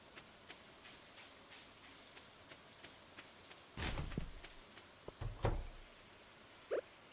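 Soft, steady rain patters throughout in the Stardew Valley video game, faint and continuous, broken by a few brief louder thuds and clicks.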